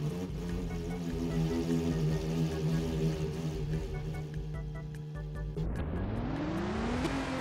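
A sports car engine in the Driving Empire racing game revs with a strong, steady tone, then climbs sharply in pitch as it accelerates hard, loud and close, with no talking over it.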